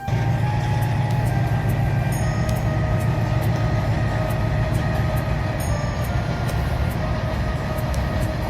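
A train passes close by, a loud, steady rumble with a low hum that holds throughout without a break, and no voices.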